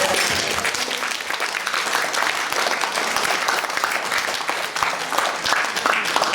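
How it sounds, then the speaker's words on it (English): Diners at a medical school reunion dinner break into loud, close applause, a thick continuous patter of many hands that carries steadily to the end. "The four of you deserve a real big round of applause."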